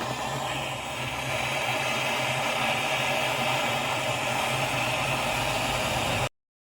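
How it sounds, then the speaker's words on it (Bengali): A steady, even hiss of a welding torch brazing a fridge capillary tube to the cooling coil, holding constant for several seconds before cutting off abruptly. "ফাইনালি আমাদের ক্যাপিলারি ওয়েল্ডিং হয়ে গেছে"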